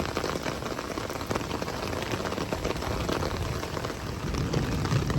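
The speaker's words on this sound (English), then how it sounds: "It's pouring like in the pouring rain" Heavy pouring rain falls outdoors near a house, a dense, constant hiss of drops on surfaces that stays loud and steady throughout, with no voices over it.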